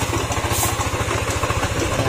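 A Yamaha NMAX 155 scooter engine running with a fault, a close, steady idle with a fast regular knocking pulse and a rough grinding rattle underneath, alone without talk.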